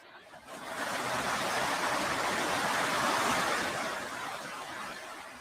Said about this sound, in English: I don't know if you can hear the rain that's happening right now.